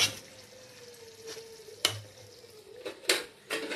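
Curry frying in a home kitchen pan, a soft steady sizzle with a few sharp clinks and scrapes of a utensil stirring against the metal, fairly close and with no talk.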